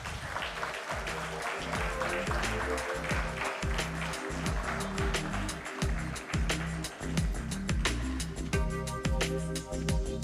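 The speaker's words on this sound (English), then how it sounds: "Could I have a round of applause as they walk in" An audience applauding as guests walk in at a summit event, steady clapping under rhythmic thumping background music that carries through the whole stretch.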